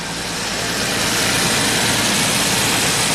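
A 1990 Jaguar XJS V12 idling too high with a surging idle, a loud continuous close engine roar that builds slightly at the start and then holds steady, no talking.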